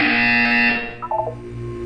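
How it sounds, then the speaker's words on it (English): A buzzer from the video game Portal 2 sounds as a steady, loud electronic tone that cuts off after about a second, followed by a short stepped beeping and a quieter hum. "When you hear the buzzer, look up at the ceiling."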